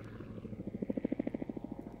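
An autogyro at an air festival, its rotor giving a rapid, rhythmic chopping pulse that grows louder and then settles, heard from a moderate distance with no talk.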